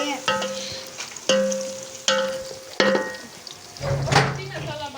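Onions frying toward light brown in a pan for chicken biryani, the sizzle broken by several sharp metallic clinks of a spoon stirring against the pan at a steady pace, close and moderately loud.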